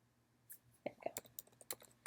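Quick bursts of typing on a computer keyboard, a handful of light, close key clicks in an irregular rhythm, faint and with no talk over them.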